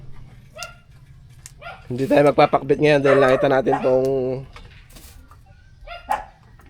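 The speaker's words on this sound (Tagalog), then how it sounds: "Marami kasing aso dun eh." Dogs bark in a loud, rapid run of yelps near the middle, with fainter barks before and after, while a person speaks Tagalog over and around them outdoors.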